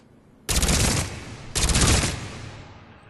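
Two loud bursts of Shuriken submachine-gun fire at short range in Mass Effect 3, each a dense rapid volley lasting about half a second, the second following a second after the first, with no talk over them.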